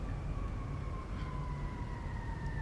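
A fire engine siren wails in the distance in Detroit near the US–Canada border, a faint sustained two-tone wail over a steady wash of traffic and city noise, with no voices.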